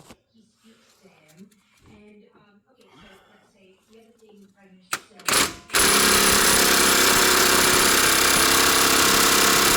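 Impact gun hammering on metal during repair work on a Ford 1.0 EcoBoost: someone talks quietly at first, then after a couple of sharp knocks the gun bursts in as a loud, sustained, rattling blast.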